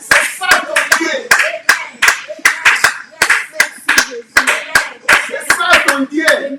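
A church congregation claps to acclaim the Lord, sharp rhythmic handclaps close and loud, interleaved with a voice speaking and exclaiming over them.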